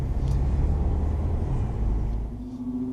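BMW M6 Gran Coupé, a 560 hp saloon, pulling away on a circuit: a steady, loud low engine drone and road rumble from inside the cabin, with the pitch rising toward the end as it accelerates.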